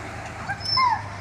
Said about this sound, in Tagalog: Gusto nang tumalon ng aso, yo.